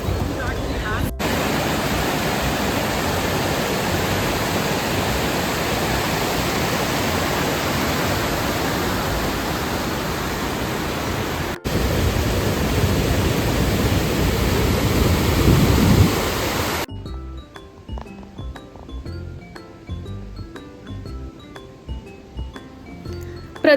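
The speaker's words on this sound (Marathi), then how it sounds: "अँडोलन नावाच्या माउंटेन रिव्हरवर हा धबधबा होता" Waterfall on the Andolan mountain river in Sweden, a loud, steady broadband roar of falling water close by that continues unbroken before cutting off abruptly to quieter ambience near the end.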